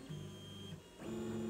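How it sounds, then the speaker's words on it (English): An Anet A8 3D printer runs near the end of a print job, a steady mechanical whir and hum with stepper tones that shift pitch partway through and carry on without talk. "The printer looks like it's going to finish its job."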